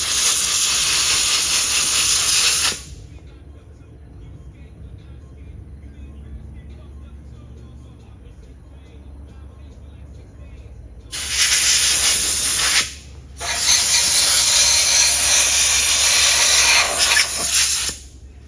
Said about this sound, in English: What I'm doing right now is blowing dust and dirt off of the back of the bearing shell.